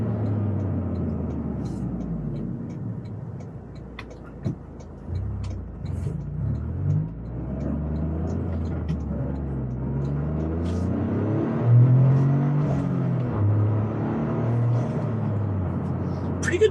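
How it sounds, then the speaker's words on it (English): Inside a stock Toyota GR Corolla, the small-displacement turbocharged engine blips itself to rev-match on downshifts, rising and falling in rumbling swells with prominent intake noise while a voice talks over it. "a real good bit of intake tract noise, which I think is kind of more fun on a small displacement turbocharged car anyway"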